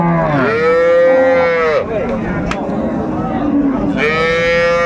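A Sahiwal cow at a cattle market gives two long, loud moos close by, one after another with a short pause between them, over a low background murmur.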